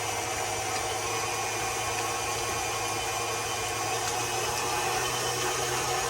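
An electric mixer whisks lemon cupcake batter with milk being incorporated, a steady continuous motor whir with a low hum that holds evenly throughout and grows slightly louder near the end.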